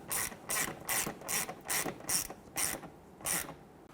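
A hand ratchet snugs down a screw on a front bumper bracket of a 2007-2014 Cadillac Escalade, making about eight evenly spaced bright clicking strokes, close and fairly quiet.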